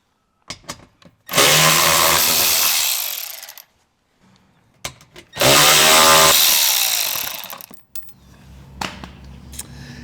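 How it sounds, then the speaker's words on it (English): Two bolts on a Jeep Wrangler being removed with an 8mm socket, likely on a power driver, heard as two loud, sustained whirring bursts of a couple of seconds each, separated by small clicks and handling knocks, with no talking. "I'm going to be using an 8mm socket to remove the 2 bolts securing it to the bottom"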